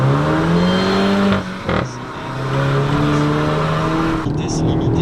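A tuned Volkswagen Golf 7 GTI accelerates through a tunnel, its engine note rising loudly and echoing, cut by a gear change with a brief drop before building again, then easing off.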